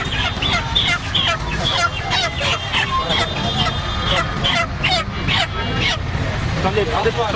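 Chickens cluck and squawk at a chicken seller's stall, a busy, noisy setting, overlapping with people talking and general crowd babble throughout.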